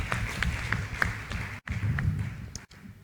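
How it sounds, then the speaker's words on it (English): Applause for a chairman at an academic gathering: a room full of people clapping steadily for about three seconds, with soft distinct claps over a dense background of hands, briefly cut by two sharp gaps. "Please give him a round of applause."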